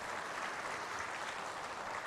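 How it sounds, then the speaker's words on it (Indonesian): Audience applause at an Islamic preacher's talk, a steady dense patter of many hands clapping at moderate volume, continuous and even for about two seconds with no talk over it. "Boleh tepuk tangan."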